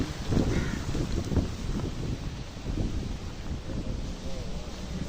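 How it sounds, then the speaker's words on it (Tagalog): Strong wind buffeting the microphone in a steady roaring rush, with gusty swells and rustling, a voice faintly present beneath the noise. "Oy, kay very windy oh."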